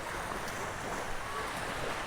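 Ocean surf rolls onto a beach at a camping spot in Nasugbu, Batangas, forming a steady, broad wash of waves mixed with wind rumble, continuous for the whole stretch with no voices.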